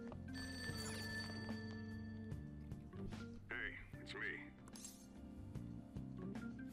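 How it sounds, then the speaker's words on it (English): A cell phone ringtone rings in a Persona 5 Royal game scene, a melodic chiming tone repeating over steady background game music, fairly close and clear, with no talking. "Ring sound, this is coming from my cell phone."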